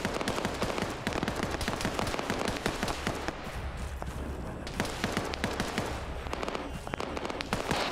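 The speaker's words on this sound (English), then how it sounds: "Mirror and AK fire to the west." AK rifle fire in a military shooter game, heard as rapid, loud bursts of automatic gunfire that crackle almost continuously, with a short lull midway before the shooting resumes.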